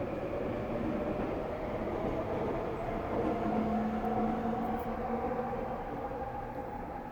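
A train rumbles steadily past nearby, a dense low roar with a faint tonal whine rising and falling across the seven seconds.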